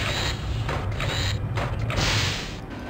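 An item pickup effect in the Star Trek: Judgment Rites computer game gives a mechanical, creaking, ratchet-like whir that pulses in short surges for about three seconds, with no talk.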